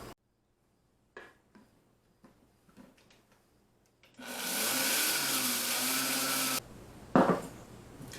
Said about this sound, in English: pour them into your spice grinder or blender like I'm doing here, and grind them up into a powder